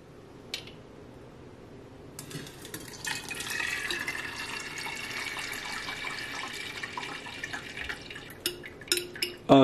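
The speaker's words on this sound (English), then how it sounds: "And then pour it in." Oxymel, a honey and vinegar liquid strained from lemon balm herbs, pours steadily into a container with a bright splashing trickle, preceded by a brief clink and ending with a few knocks of glass or utensils.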